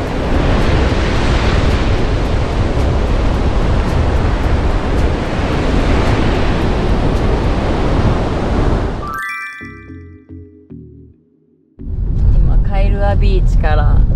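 Loud, roaring ocean surf and crashing waves on Hawaii's North Shore fill most of the clip, then briefly cut to quieter tonal sounds before the surf returns.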